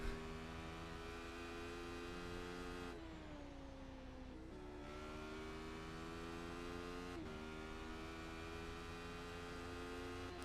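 A race car's engine in a racing video game drones steadily at high revs, its pitch dipping with each gear shift and then climbing again, loud and continuous with no talk over it.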